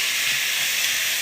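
Vegetables sauté in a hot pan for lentil soup, giving a steady, even hiss that stays close and unbroken, with no voices.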